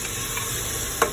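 Tomatoes frying with ginger garlic paste in a pan, a steady close sizzle with one brief scrape of a stirring spoon near the end, no talking.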